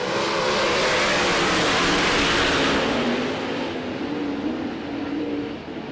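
Dirt track race cars roaring past together at Eldora Speedway, a dense, loud wash of engine noise that swells and then slowly fades as the pack moves away, with no voices.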